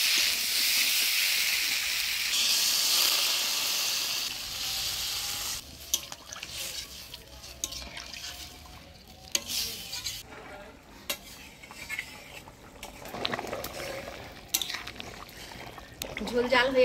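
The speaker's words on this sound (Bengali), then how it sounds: "এবার ঝোল দিয়ে দিব।" Broth poured into a pan of fried potatoes and spices for a Bengali village-style fish head curry, with a loud rushing sizzle first that settles into quieter bubbling and scattered stirring clatter, close by.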